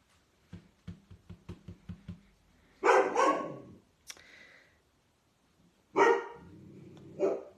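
A dog barks outdoors in the rain in a quick run of about eight sharp, evenly spaced barks, followed by a few louder, longer bursts that could be more barking or another noise, at moderate distance.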